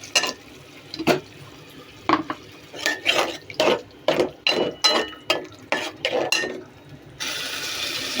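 Chili powder and tomato going into a cooking pot: a run of sharp scraping and stirring strokes against metal in an irregular rhythm, close and fairly loud, ending in a steady sizzle.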